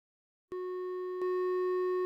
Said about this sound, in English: I'm going to plug in the sine wave of oscillator 1 into our output channels 1 and 2.